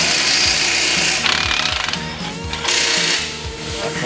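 Ratchet wrench fitted with a 21 mm socket working a front shock bolt on a 2003 Chevrolet Avalanche 1500 truck, a close, loud run of rapid mechanical clicks with a repeating rhythm and no talk.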